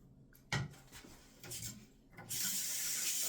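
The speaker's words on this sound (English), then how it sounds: "Sorry, I gotta rinse my hand." Water from a tap runs over a hand being rinsed at a sink, with some rubbing and handling noises at first, then a steady hiss of water that grows louder near the end, quiet and close, with no talk.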